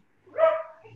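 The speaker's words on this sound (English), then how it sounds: "dogs are barking" A single dog barking at a distance, one short muffled bark rising out of near silence, with another sound starting just at the end.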